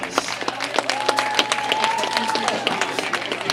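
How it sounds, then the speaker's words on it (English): A crowd applauds the Viper football team at a high school sports broadcast, with steady, dense clapping throughout, a voice speaking over it and a faint whistle-like tone partway through. "Let's give this Viper football team one more round of applause."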